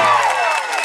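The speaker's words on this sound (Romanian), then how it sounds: "ea vrea să aud acum aplauze tare!" Crowd of about 650 Romanian concertgoers at an indoor show in Dublin, Ireland, cheering and clapping loudly in a dense, steady wash of applause throughout.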